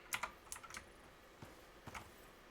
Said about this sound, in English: I got a new keyboard. So if it sounds extra clicky, that's why.